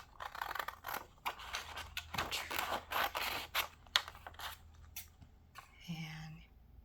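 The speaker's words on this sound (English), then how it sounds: "And you take your scissors," Soft snipping and scraping of scissors trimming paper for a cut-and-paste envelope pocket, close and quiet, mixed with faint murmured talk, then a brief tonal blip near the end.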